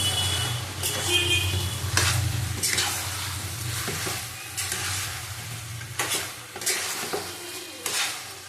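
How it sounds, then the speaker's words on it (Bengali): Previously fried potatoes tossed into a pan of chicken curry and stir-fried, a sustained sizzle punctuated by repeated loud scraping stirs at an uneven rhythm, heard close with a low hum underneath. "দেখো আলুগুলি দিয়ে দেবো আলু ভেজে রেখেছিলাম আমি"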